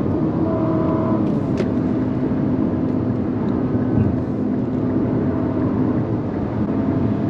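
A 2023 Infiniti QX55 all-wheel-drive compact SUV drives on a rainy day in Miami, a steady low engine and road rumble running evenly throughout with no voices.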